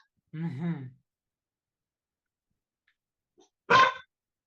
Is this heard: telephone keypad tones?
no